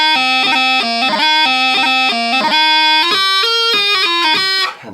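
Highland bagpipes play the Highland Laddie tune for Highland dancing, loud and close, with a steady drone under a lively stepping melody of short ornamented notes, ending abruptly.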